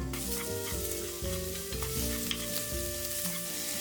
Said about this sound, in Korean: 웍에 기름을 넉넉히 두르고 대파를 넣어 파기름을 만들어 주세요.